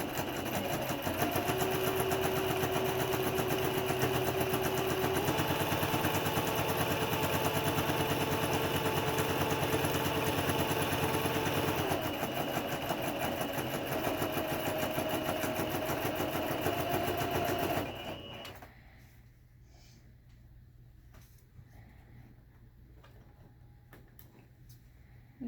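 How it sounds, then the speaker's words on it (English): A sewing machine stitches along a seam of fabric in a steady, fast mechanical whir with a rhythmic clatter, running loudly and continuously, then stopping abruptly near the end and leaving quiet room tone. "And you sew all the way"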